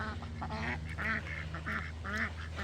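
Ducks by a small lake giving repeated nasal quacks in short bursts, close and clear, with a steady low hum in the background.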